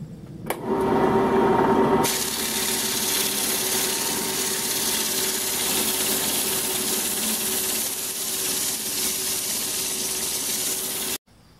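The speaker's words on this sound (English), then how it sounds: "It's a beautiful thing, all sanded down with 40 grit." A wooden baseball bat is sanded with 40-grit paper on a spinning lathe, giving a loud, continuous abrasive whir with a steady motor hum that runs throughout and stops abruptly at the end.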